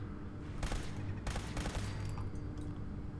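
Turret gunfire in the video game Fallout 4 sounds as two loud bursts of rapid shots over a steady low in-game rumble, followed by a few fainter scattered pops.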